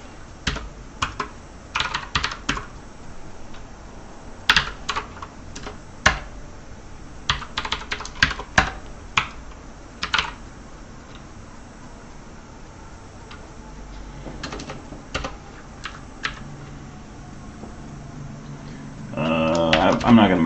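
A computer keyboard clatters in bursts of close, clicky keystrokes as assembly code is typed, irregular runs of taps separated by pauses, with a louder rustle near the end.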